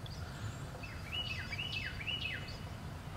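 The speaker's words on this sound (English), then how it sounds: "Hear that bird? Sounds like it's tweeting," A bird chirps outdoors in a run of rising and falling tweets, fairly faint over a steady low rumble, with no talking.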